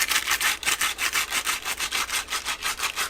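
A brush scuffs the surface of a deer taxidermy ear liner in rapid, even back-and-forth strokes, a close, rhythmic scratchy rasp of about four strokes per second.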